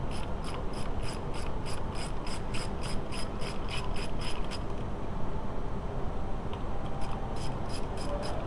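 Ratchet working a 16 mm bolt on a VW A3 2.0L ABA engine: quick, even runs of sharp clicks, one long burst and then a shorter one, over a steady hiss of background noise.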